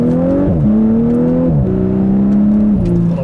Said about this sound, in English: Little burps on the upshift sound good.